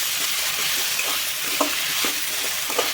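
Raw banana poriyal sautés in a pan with a steady, close hiss of sizzling oil. Soft scrapes and clicks of stirring break through the sizzle every half second or so.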